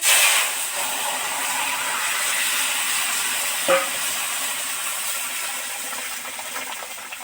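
Vegetables for a Bengali bata fish curry with potato, brinjal and bori tipped into hot oil fried with panch phoron, dry red chilli and bay leaf, giving a steady close hiss of sizzling that runs throughout with one brief clink.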